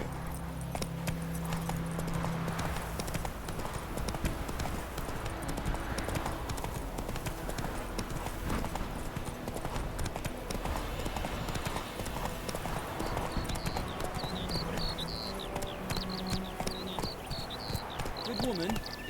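Roach, Geralt's horse in The Witcher 3, gallops with steady rapid hoofbeats on a dirt road, loud and close, over game music with voices talking now and then.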